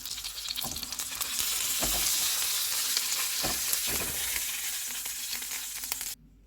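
Salmon fillet frying in a pan, a dense continuous sizzle and spatter close up with a few spatula knocks, running steadily before cutting off abruptly at the end.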